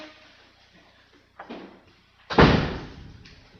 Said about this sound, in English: can you just close that door?